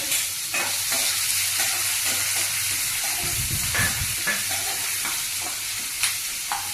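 Cumin seeds, bay leaf and onions frying in a pan, a steady close sizzle and hiss with a few stirring scrapes and a brief louder burst midway.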